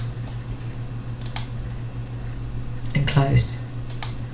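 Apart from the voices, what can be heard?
typing on computer keyboard to enter deductions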